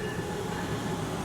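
An Amtrak passenger train rolls past nearby, a steady, loud rumble and roar of wheels on rails filling the whole moment without a break, with no voices.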